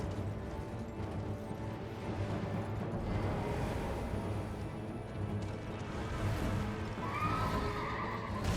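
Horse of a Knight's Cavalry rider in the video game Elden Ring neighs, a loud whinny over a dense rumbling backdrop of hooves and combat noise, with a rising squeal near the end.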